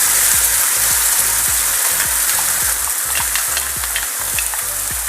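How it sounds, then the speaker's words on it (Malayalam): Ground coconut-yogurt paste hits a hot pan of fried mustard seeds with a loud, continuous sizzle, steady crackling frying and repeated scrapes of a stirring spoon, no voices. "അതിലേക്ക് നമ്മൾ അരപ്പ് ഒഴിച്ചു കൊടുക്കും."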